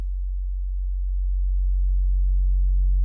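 Synthesized drum and bass bass tone with added upper harmonics: a loud, steady low hum held for about three seconds, its upper partials growing a little stronger toward the end, with no other sound.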